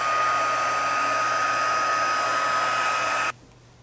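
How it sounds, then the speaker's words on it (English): Steady, loud whooshing hot air from a Stampin' Up! crafting heat tool with two speeds, running without a break for more than three seconds and then switching off abruptly, leaving quiet. "I finally got a Stampin' Up! Heat tool. It's got 2 levers, 2 speeds, 1 and 2."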